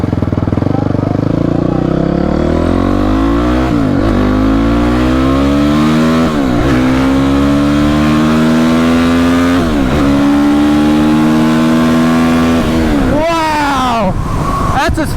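Gas motorcycle engine revving hard and climbing through gears, with rising engine whine broken by clutch shifts, then downshifting toward a stop; steady and loud throughout, with a rider talking over it.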